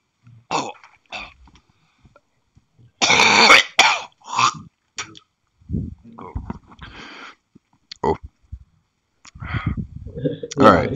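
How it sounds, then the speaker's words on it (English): Several coughs and a throat clear from a person on an online work call, loud and close, broken by short pauses and mixed with brief spoken remarks. "I got a cough."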